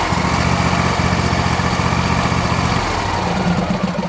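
A Craftsman YT-4000 lawn tractor engine runs at a steady idle with low, even chugging throughout, loud and close, with no voices.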